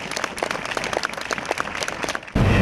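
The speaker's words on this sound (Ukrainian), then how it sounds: "Це останні прощальні аплодисменти, котрі звучали на честь народної артистки України Лариси Власенко" Farewell applause for an actress outside a theatre: a crowd claps steadily in a dense, rapid patter that swells loudly in the final moment, heard close with no talk.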